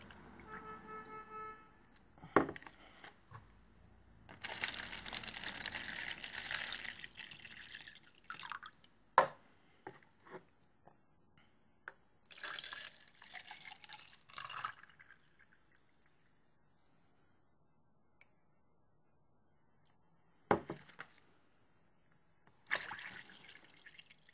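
Water being poured into a half-litre measuring bowl to make up one litre, heard as a few bursts of trickling and splashing liquid with pauses and sharp drips between pours, close and fairly quiet.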